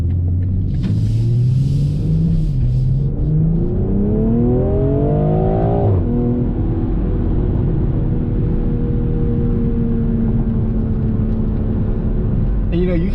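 A 2020 BMW M340i xDrive accelerating hard on the road, its engine note climbing steadily through the revs with a gear change midway, then settling into a steady drone, loud and close with an ongoing underlying rumble.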